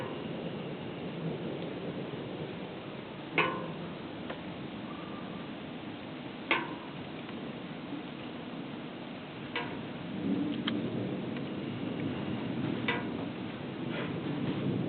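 Severe summer thunderstorm with steady rain hissing throughout, punctuated by several sharp, close thunder cracks and a few distant rumbles; no talking.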